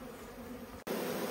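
Honeybees in a beehive at the start of the beekeeping season hum in a dense, steady buzz. There is a brief dropout near the end, and then the drone continues slightly louder.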